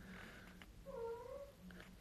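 A cat gives a drawn-out, wavering meow in the middle of a quiet room, faint and somewhat distant, with a couple of softer chirps around it.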